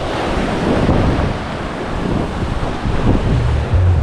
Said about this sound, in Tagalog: yung biglang lakas ng hangin, tapos alon, ang laki